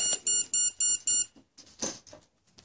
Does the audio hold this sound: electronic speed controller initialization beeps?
yes